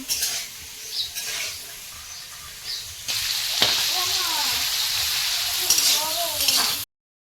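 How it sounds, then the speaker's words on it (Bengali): Shrimp rubbed with salt and turmeric sizzle and crackle steadily in hot oil in a pan, a loud continuous hiss with occasional stirring, while voices talk over it. "চিংড়িটা হালকা ভেজেছি"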